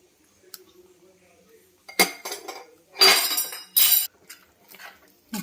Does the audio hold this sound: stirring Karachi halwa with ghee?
yes